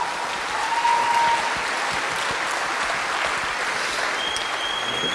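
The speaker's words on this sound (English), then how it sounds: "round of applause for these people" An audience claps for a youth panel at a climate talk with James Hansen, a steady, dense round of applause from a sizable crowd in a hall, continuing evenly, with a faint tone briefly audible.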